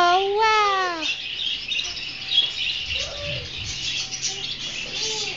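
Birds calling outdoors near a tree, with a strong descending harmonic call at the start followed by softer chirps and occasional cooing over a steady background hiss; a voice is faintly present.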